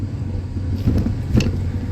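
Car driven by a first-time learner, a low steady engine rumble with a couple of brief bumps or knocks, close and continuous with no talking.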